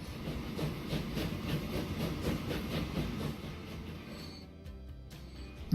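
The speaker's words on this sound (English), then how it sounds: "At last, the trains run again after quite a long absence." Trains in the video game Transport Fever, a steady rumbling run with rhythmic clickety-clack over the rails, fading and cutting out near the end, moderately loud with no talk.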